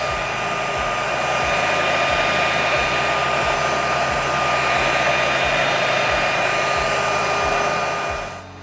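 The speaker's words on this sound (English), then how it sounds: "I'm going to turn the leaf blower on." A motorized leaf blower mist sprayer runs at full power, a loud steady whooshing roar with a high whine and a pulsing low engine beat, then cuts off near the end, with no one speaking.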